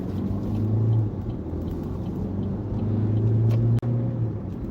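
A car pulling away under acceleration during a beginner driving lesson, a steady low engine rumble with a rising tonal hum and a brief cut near the end, no talking.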